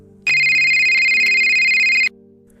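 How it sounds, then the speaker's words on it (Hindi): A phone ringtone sounds as one loud, steady electronic tone lasting about two seconds, then cuts off abruptly, leaving a quiet background. "फोन बज उठा।"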